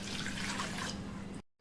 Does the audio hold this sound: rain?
no